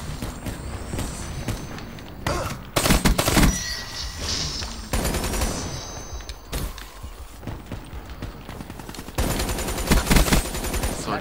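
Rapid automatic gunfire and bursts of shots in a Call of Duty Black Ops 3 multiplayer match, loud and close, coming in dense clusters separated by short pauses, with no talking.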